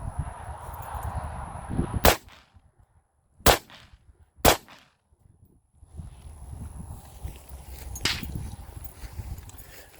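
Four loud, sharp gunshots fired at a target from 7 yards at an outdoor range, three in quick succession and one a few seconds later, each with a short echo over low background rumble.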